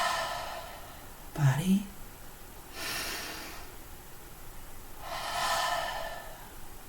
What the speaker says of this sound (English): you can once again take 3 deep breaths.